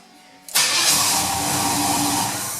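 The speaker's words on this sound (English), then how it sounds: "Then my car starts right up." A 1978 Pontiac Trans Am engine starts abruptly after a quiet moment, catching at once and settling into a loud, steady idle up close.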